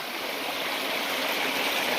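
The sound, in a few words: water flowing down over a back wall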